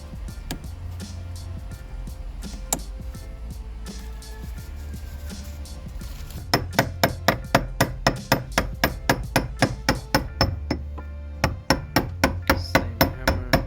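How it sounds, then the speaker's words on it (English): A hammer taps a fuel pump lock ring into place on a 2001–2008 Honda Pilot, sharp metallic strikes at first sparse and irregular, then a quick steady run of loud close blows with a brief pause before the last few. "Same hammer."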